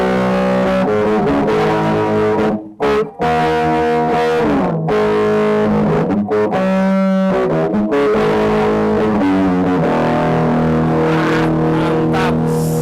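An electric guitar played through a distortion effect at a small guitar maker's workshop rings out loud and gritty with sustained chords and brief pauses between phrases, close and without talking.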